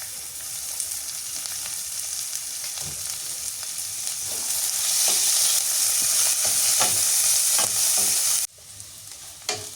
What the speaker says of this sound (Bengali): এই জায়গায় কাঁচামরিচ পেঁয়াজ দিয়ে দিছি এটা নাড়াচাড়া করে সরিষার তেল দিয়ে দিই